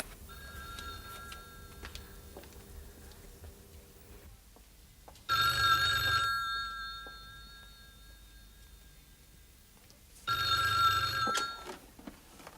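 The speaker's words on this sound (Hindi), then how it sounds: "टेलीफोन की घंटी बज रही है, जाओ सुनो।" In a 1986 Pakistani TV drama, an old-style telephone bell rings twice, each burst about a second long and a few seconds apart, loud against a quiet room.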